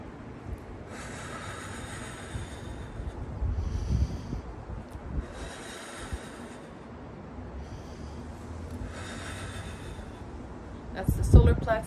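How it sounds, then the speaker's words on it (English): Slow, deep in-breaths and out-breaths during a guided breathing exercise, soft airy swells repeating every couple of seconds, close, alternating with a person talking. "breathe in"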